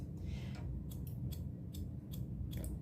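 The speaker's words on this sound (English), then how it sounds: "just holding the scissors straight up and down" Scissors point cutting the blunt edge of a wig, several quick crisp snips in an irregular rhythm, close and distinct over a steady low background hum.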